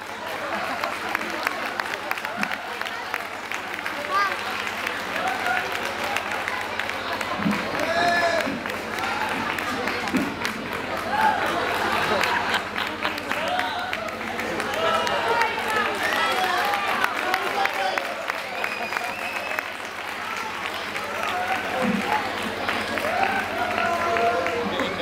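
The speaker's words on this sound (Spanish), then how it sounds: "Un fuerte aplauso para Paco." Applause from a crowd at a local carnival group contest in Bailén, a steady, fairly distant patter of clapping lasting many seconds with voices and crowd noise around it.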